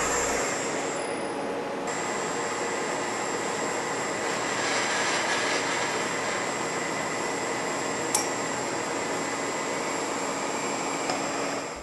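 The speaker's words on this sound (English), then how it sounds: "For this 1/2 inch end mill, cutting aluminum, adjust the spindle speed to 1200 RPM." A milling machine with a half-inch end mill cutting an aluminum block, giving a steady, loud broadband whine and hiss with a constant high tone, sustained throughout with a couple of brief sharp ticks.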